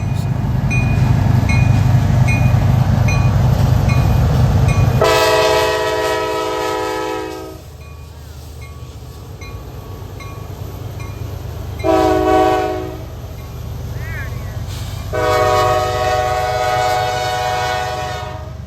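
Freight train led by an SD70 Mac and a GEVO locomotive leaving Palmetto, rumbling nearby with a loud chord horn blown in three long blasts.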